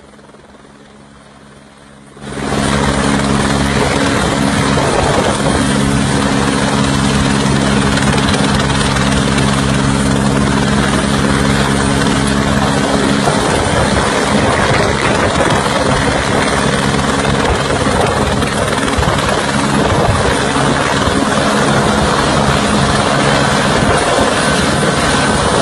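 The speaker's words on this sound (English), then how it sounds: "The yellow helicopter is skating on ice." Yellow helicopter on ice, its engine and rotor roaring loud and steady after a quiet opening, with a constant throbbing drone throughout.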